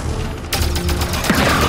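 Gunfire in the Halo 5 video game, a loud close burst of rapid shots that starts abruptly and keeps going, a dense rattling volley with heavy booming low end.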